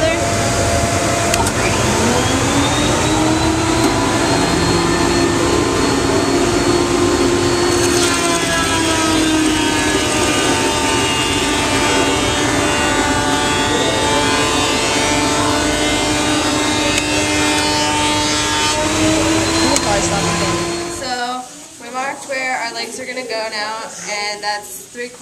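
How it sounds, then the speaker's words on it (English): A loud, steady machine whine with a shifting tonal drone from a drill press running and cutting holes for a long stretch, then winding down to clatter. "Here at the drill press, we're going to drill our holes each an inch apart from each other."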